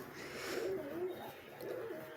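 A pigeon coos in a close, steady series of soft, throaty rolling calls lasting about two seconds, with no talking.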